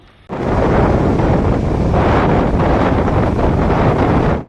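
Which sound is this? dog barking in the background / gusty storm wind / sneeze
gusty storm wind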